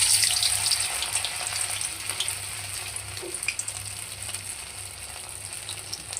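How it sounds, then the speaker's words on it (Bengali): Food sizzles steadily in hot oil in a pan while a vegetarian aloo and jackfruit dhoka dish is cooked, a constant bright frying hiss with faint crackles throughout and no talking. "এবার আমি এই গরম তেলের মধ্যে একটা প্রথমে দিয়ে দিব।"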